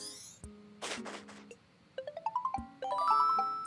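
A phone rings in the video game Animal Crossing New Horizons. Bright, tinkling musical chimes rise in quick ascending runs, repeated twice, after a few soft swishing effects, close and clear with no talking.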